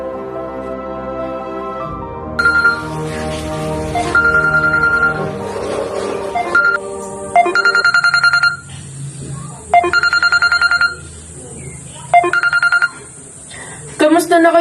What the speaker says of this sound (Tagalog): Tumunog ang cellphone ni Julie.